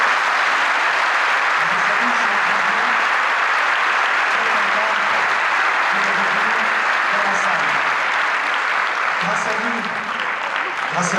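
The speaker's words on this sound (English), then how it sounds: "que vous pouvez applaudir d'ailleurs chaleureusement" Warm, sustained applause from a large audience at a UNESCO event with Jane Goodall, dense continuous clapping that fills the hall, with some voices faintly audible underneath.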